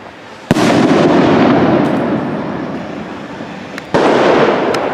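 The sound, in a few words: Spanish avalanche firework rockets lit and exploding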